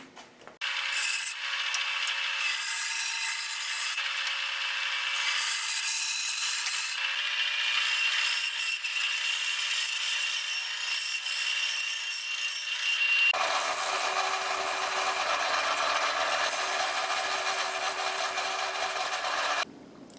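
Glued-up wood pieces for a takedown bow are trimmed with a loud, steady, continuous tool noise lasting about twenty seconds, which shifts in tone partway through as the cut changes, with no talking.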